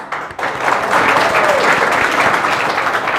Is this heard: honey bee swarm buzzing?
no